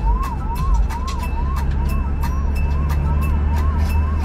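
A highway patrol police car's siren wails in a steady repeating up-down cycle, loud and close throughout, over constant road and engine rumble on a Tamil Nadu highway.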